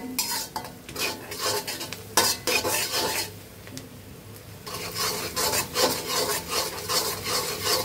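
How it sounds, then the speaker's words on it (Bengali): Onions softening in a pan for bhuna khichuri are stirred steadily, a metal spoon scraping and rubbing against the pan in repeated strokes over a low background sizzle, close and alone without talk. "এখন চুলার জালটাকে বাড়িয়ে দিয়ে পেঁয়াজটাকে আমি হালকা নরম করে ভেজে নেব।"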